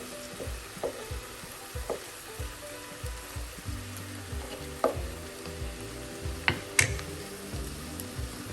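Sliced onions sauté in hot oil for a homestyle Kerala chicken curry, giving a steady close sizzle broken by sharp scraping clicks of a spoon stirring the pan.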